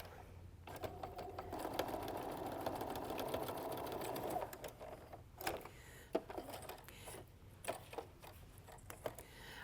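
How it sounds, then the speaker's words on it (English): A sewing machine stitches quilt block seams together in a steady rapid whirr for several seconds, then stops and starts in short bursts among fabric handling and clicks, fairly quiet and close. "when I sew them together, that seam is going to be right together and it's going to lock right into place"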